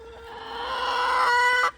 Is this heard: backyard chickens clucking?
yes